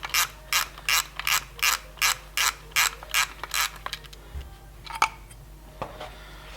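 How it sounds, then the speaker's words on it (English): Hand ratchet undoing 13mm nuts on a Ford Escort RS Cosworth brake caliper bracket, a dozen quick, evenly spaced clicking bursts up close, then slower scattered clicks and taps. "we need to take off the bracket, the floating bracket for the caliper, which is just held in place with a couple of 13mm nuts"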